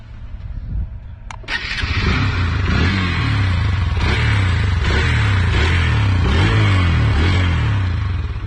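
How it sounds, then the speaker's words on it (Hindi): A Hero Xtreme 160R 4V motorcycle starts with a sharp click, then its exhaust settles into a loud, steady close-up idle with a throbbing low rumble and rhythmic pulsing that continues to the end. "और अब एक्सट्रीम को ट्राई करते हैं।"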